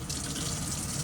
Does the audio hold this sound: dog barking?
no